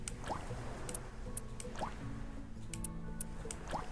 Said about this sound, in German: Wir wollen Flasche Wasser füllen.